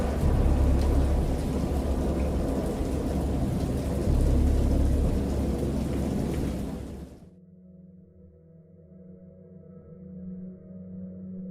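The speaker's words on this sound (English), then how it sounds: "Of thunder and other tones which nature utters only in her wildest moods." Heavy rain and rumbling thunder from a thunderstorm in the video game Dagon roar loudly for about seven seconds, then cut off abruptly, leaving a faint low hum with no voices.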